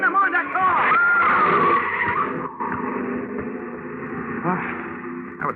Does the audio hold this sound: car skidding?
yes